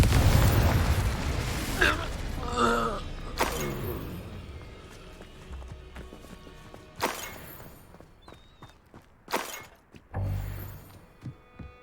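A Confringo blasting spell goes off in Hogwarts Legacy with a loud explosive burst and a shattering crash. Scattered impacts and thuds follow and fade over several seconds.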